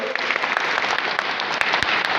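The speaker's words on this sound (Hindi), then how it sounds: "ताली बजाइए।" Dense, loud applause from a large crowd at a political rally, continuous sustained clapping with a few sharper individual claps standing out.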